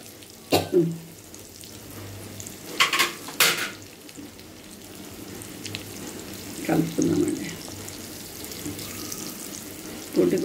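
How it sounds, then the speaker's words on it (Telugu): Spices for tempering crackle in plenty of hot oil for a red sorrel (puntikura) chutney, heard as sharp sizzling bursts and utensil clatter, separated by quieter stretches with no talking. "తాలింపు వేసుకుందామండి కొద్దిగా తాలింపు నూనె ఎక్కువనే ఉండాలండి పచ్చడకు"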